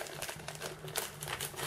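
A bubble wrap packaging bag holding parts for a mini sanding and grinding tool is handled close up, giving a steady run of soft crinkling and crackling with no voices over it.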